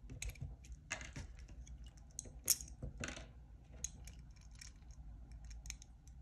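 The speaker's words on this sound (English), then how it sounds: "Gonna cut all the cables." A punch-down tool snips CAT6 cable conductors while a Commscope Uniprise UNJ600 jack is terminated, with a rapid series of close, crisp clicks and cuts that repeat irregularly and quietly, no talk.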